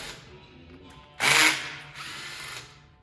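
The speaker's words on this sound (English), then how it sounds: "you'll need a T27 to take your clutch perch screws out" A power driver fitted with a Torx bit spins out clutch perch screws on a 2007 Harley FLHX motorcycle, giving a loud whirring burst of about a third of a second, then a softer, longer run over a faint background hum.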